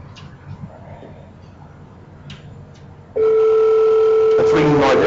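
An IP desk phone extension rings at close range: after a quiet stretch with faint background noise, a loud steady electronic ring tone starts suddenly and holds to the end.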